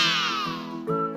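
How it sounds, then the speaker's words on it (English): A tabby cat meows alone, one drawn-out falling meow followed by a brief higher second call, close and clear. "Timber is a tabby cat that belongs to a wonderful Israelite little girl named Siora."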